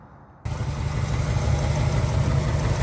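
A cold 1949 Ford Custom club coupe with a 302 V8 fires up abruptly after a moment of near silence, then settles into a steady, loud, rumbling idle with a deep low throb.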